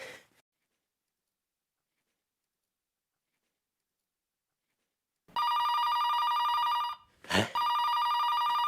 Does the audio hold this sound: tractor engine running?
no